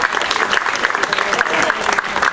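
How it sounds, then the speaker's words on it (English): An audience applauds a gun crew after a dry-fire cannon demonstration at Yorktown, with loud, dense, steady clapping close by for a couple of seconds. "Let's give our crew a round of applause."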